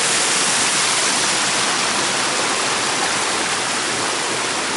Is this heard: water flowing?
yes